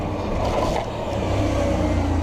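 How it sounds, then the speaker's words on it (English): A Lamborghini Huracan drives past on a New York City street, its engine a steady, fairly loud low rumble mixed with traffic noise over the full two seconds. "The Lamborghini Huracan over there."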